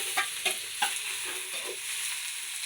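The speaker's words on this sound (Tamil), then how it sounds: "வெங்காயம் வதக்கிடுச்சு நல்லா" Large onions being stirred and sautéed in a pan for fish curry, with a steady sizzle and several scraping stirs of a spoon near the start, close and alone without talk.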